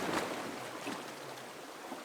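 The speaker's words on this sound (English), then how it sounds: "Maybe it's gonna be too noisy to sleep right by the ocean." Ocean surf with the tide coming in, heard as a faint, steady broadband wash of waves with no voices.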